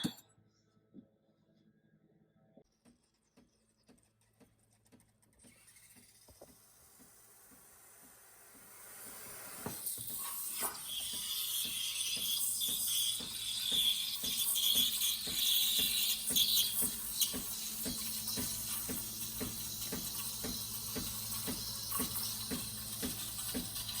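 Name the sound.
milk being steamed for a red velvet latte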